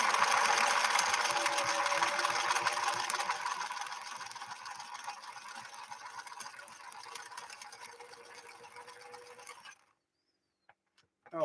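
A 1968 Singer Model 626 sewing machine stitches a 3-point zigzag in a steady, fast, whirring run close by for nearly ten seconds, then falls silent apart from a couple of faint clicks.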